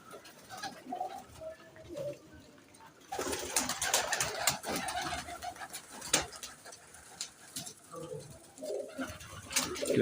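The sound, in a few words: Teddy pigeons cooing on the mesh of a loft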